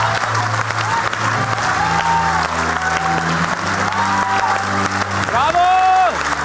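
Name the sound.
audience applause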